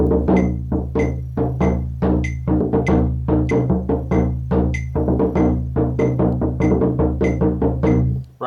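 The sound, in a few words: bodhran playing triplets as 16th notes, the wrong way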